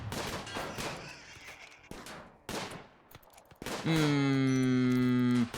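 Auto pistols crack in bursts during a Rimworld colony skirmish, sharp shots spaced irregularly before a bright ringing chime takes over near the end; no voices.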